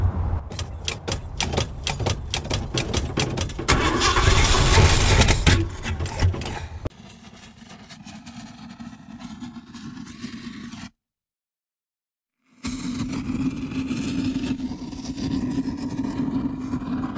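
A Ford 460 V8 with a Holley 4180 carburetor in an Econoline E-350 tow truck cranks with rapid ticking, catches into a loud roar, settles to a rough low idle, cuts out to silence, then runs again steadily.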